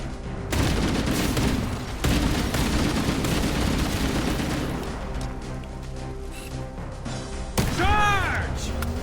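Dense, loud volleys of gunfire and explosions from a Halo firefight run almost without pause, with a laser-like sweeping zap near the end and voices shouting over the battle.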